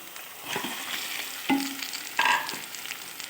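Marinated chicken added to onions that are half fried in a pan gives a soft sizzle, broken by a few sharp clanks and scrapes as the mixture is stirred.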